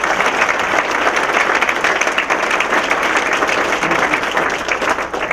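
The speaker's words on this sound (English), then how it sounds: "let's give them a round of applause" Sustained applause from an audience at a chamber of commerce annual dinner, steady dense clapping that stays loud and even throughout, with a faint murmur of the crowd beneath.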